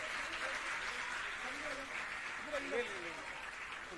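A crowd at a school inauguration event in Delhi claps in a fairly faint, steady patter, with a voice on a loudspeaker speaking over the applause throughout.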